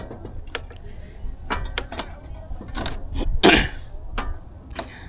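A person with a pollen allergy coughs and clears their throat a few times, short harsh bursts nearby, amid clicking and rustling handling noises.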